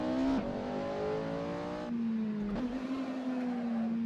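Porsche 918 Spyder in Assetto Corsa, a loud engine wailing through rising revs, with sharp gear-change dips near the start and midway as the pitch climbs again, steady and close with no talking.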